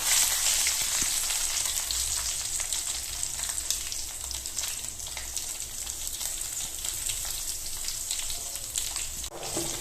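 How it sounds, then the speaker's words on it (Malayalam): Mustard seeds spluttering and curry leaves frying in hot oil for a traditional Kerala dal and taro-leaf curry tempering, a steady close crackling sizzle with dense popping throughout, no talk. "കടുക് പൊട്ടി തുടങ്ങിയപ്പോൾ കറിവേപ്പില കുറച്ചിട്ട്"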